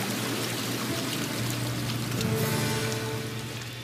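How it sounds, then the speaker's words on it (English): Water flows and bubbles steadily in a hot tub beside a river, a continuous close wash of churning water with no talk over it. "Actual hot tub's quite nice."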